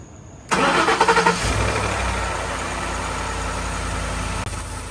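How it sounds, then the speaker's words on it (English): A Ford F-150 engine starts: a short burst of starter cranking, then it catches and settles into a steady, close idle that continues to the end. "We're gonna crank up the engine."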